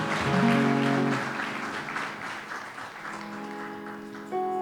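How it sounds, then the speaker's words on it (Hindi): Audience applause at a Christmas carols program, a broad wash of clapping swelling at first and then holding steady, with sustained tones, likely music, ringing underneath. "जोरदार तालियां सिस्टर के लिए"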